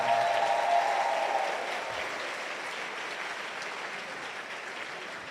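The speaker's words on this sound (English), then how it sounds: "our chairperson and committee deserve a very big round of applause" A large audience at a university white coat ceremony gives a long, steady round of applause for the chairperson and committee, dense and even, easing slightly after the first second.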